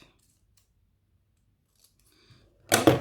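Scissors snip off the excess ends of paper strips on a paper accordion bunny, with one short, close, loud crunch of cutting near the end after a quiet stretch.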